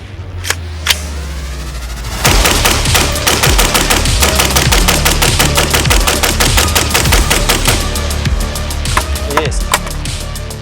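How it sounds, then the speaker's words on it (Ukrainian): Rapid rifle fire through a sound moderator rattles off in a long, steady string of sharp, muffled shots, a 30-round magazine, loud and close, with a couple of single shots at the start. "будемо стріляти темпово, один магазин, 30 набоїв"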